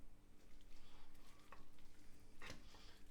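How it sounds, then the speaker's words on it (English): Chicken biryani being stirred in a pan, with soft scraping and a faint sizzle, and two brief louder stirs near the end, heard alone without talk. "Now just mix it all together and we're done."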